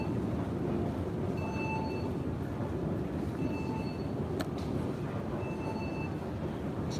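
A Helsinki metro train passes with a steady, loud rumble, and recurring high squeals or whistling tones rise above it every couple of seconds. No one speaks.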